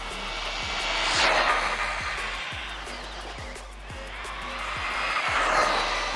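Traxxas Gladiator RC car on a 3S battery runs at full throttle, its high motor whine swelling and fading as it passes near and away, with repeated rhythmic ticks underneath and no talk.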